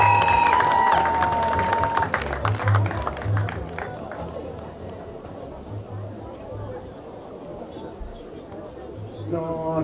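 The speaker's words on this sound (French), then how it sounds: "Applaudissez très fort pour M." A crowd at a Gabonese customary wedding applauds and cheers in a dense, continuous patter, with chatter and voices mixed throughout and the clapping thinning out toward the end.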